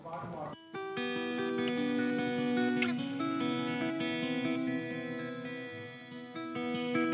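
Sustained electric guitar chords from a 1970 Les Paul drenched in reverb from a pedal, with added octave tones ringing above and below, swelling and holding steadily throughout.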